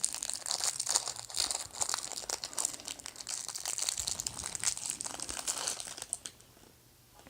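Cellophane wrapping is peeled off a Cloudy Tech Big Boss sub-ohm vape tank, giving a continuous close crinkling and crackling that thins out and fades near the end.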